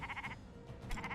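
Sheep bleat in the video game Commander Quest, a couple of short, wavering game-sound bleats in quick succession, moderately loud and without talk.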